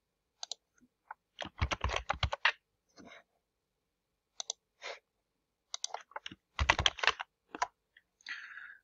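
Someone types on a computer keyboard, entering a key point name in a labeling tool. Short bursts of crisp key clicks are separated by pauses, close and clear in a quiet room.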